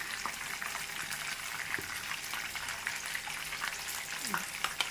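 Chicken frying in a pan with sautéed masala for a green chicken curry, a close, steady sizzle with small pops and occasional stirring scrapes, no speech.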